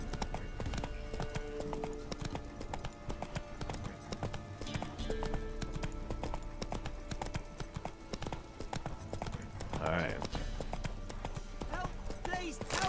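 Hooves clip-clop steadily as a horse runs in the video game The Witcher 3: Wild Hunt, a continuous rhythmic beat under game music and someone talking throughout.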